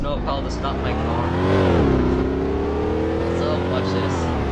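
A car engine drones and rises in pitch in a snowy video game driving scene, revving up then settling into a steady hum, with sound continuous and fairly loud.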